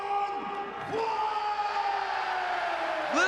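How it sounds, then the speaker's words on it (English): An arena crowd at a PRIDE FC 19 mixed martial arts event roars a sustained ovation for fighter Don Frye, a dense, loud wall of cheering and whistles with rising tones through the whole stretch. "Don Frye got a huge ovation."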